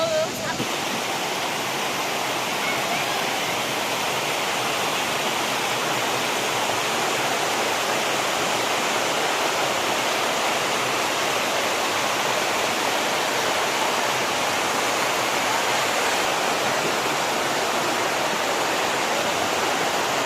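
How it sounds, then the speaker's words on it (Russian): The Nikhaloy waterfalls in Chechnya roar in a steady, dense rush of falling water that stays loud and unbroken throughout, with faint background voices. "это мы на Николаевских водопадах"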